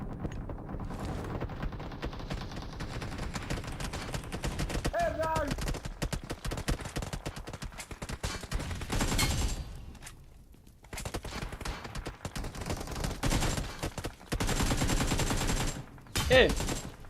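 MG3 machine gun fire in the PUBG Mobile video game, long rapid sustained bursts of automatic shots with short pauses between them, mixed with game sounds and voices talking over the action.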